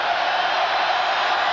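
Thousands of basketball fans cheer inside St. John Arena during an Ohio State–Indiana game, a continuous loud roar of crowd noise holding steady throughout.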